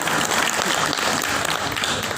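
A crowd applauds enthusiastically, dense continuous clapping filling the whole stretch.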